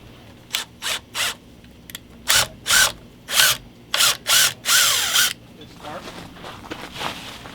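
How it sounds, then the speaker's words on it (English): Power drill at work while building a haunted attraction set: a string of short, loud whirring bursts, roughly nine pulses spread over several seconds, some brief and some longer, followed by quieter handling noises. "Bring me my my drill, please."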